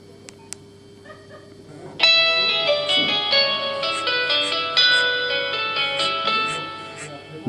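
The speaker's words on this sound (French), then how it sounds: "ils ont réinstrumentalisé en fait les sonneries, ça fait style clavecin" A Nokia ringtone rearranged in a harpsichord style plays from a phone, giving a bright, plucked keyboard melody of rapid notes that starts abruptly after a few quiet seconds and carries on loudly to the end.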